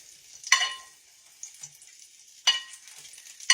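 Bacon frying in a skillet gives a faint, quiet sizzle broken by two sharp, close crackling pops about two seconds apart.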